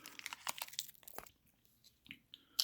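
A Lunchly Milk Crunch candy bar is bitten and chewed up close, with quiet crinkling and crisp crunches coming in irregular bursts. Brief pauses separate the crunches, and there is one sharper snap at the end.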